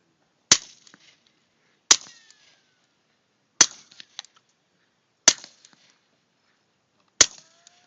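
Five suppressed shots from a P22 pistol at cans, each a sharp, dry crack followed by a quick tick of the target or brass, evenly spaced about one to two seconds apart, close by, with no talking.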